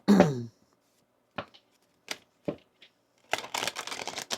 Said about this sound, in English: Let's give your deck here a really good shuffle.